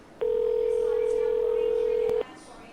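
A telephone call being dialed, heard as a single steady electronic tone that holds for about two seconds before cutting off, clear and close.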